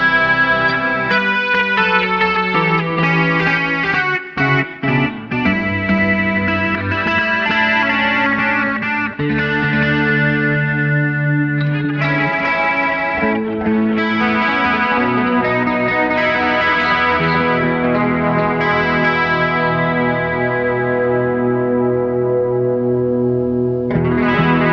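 Sustained chords from an electric guitar through a Boss eBand JS-10, washed in reverb and chorus-like shimmer, playing continuously and fairly loud with no voices.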